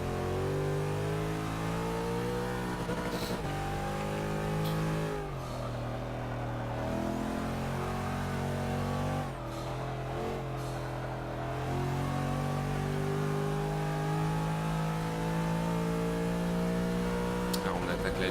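Four-wheel-drive car accelerating hard on a race track, its loud engine note climbing through the gears with brief dips at shifts, sustained for the whole stretch while someone speaks in French over it.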